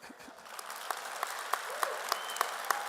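Applause from a banquet audience honouring a social activist, a short, thin round of clapping with a few sharp individual claps standing out at a moderate distance.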